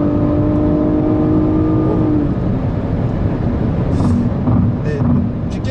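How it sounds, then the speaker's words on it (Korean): A Nissan Maxima's engine rises in pitch as it accelerates during a test drive, the revving tone heard from inside the cabin for about two seconds before fading under road and wind noise. "엔진 사운드가 정말 좋아요."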